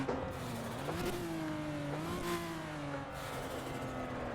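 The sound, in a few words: Mitsubishi Evo IX FQ320 engine accelerating on the Nürburgring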